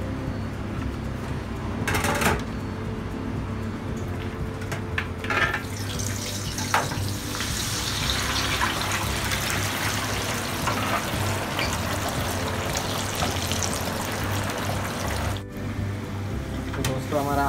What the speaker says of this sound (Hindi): हम लोग इसे भी फ्राई करेंगे थोड़ा तेल में 2 मिनट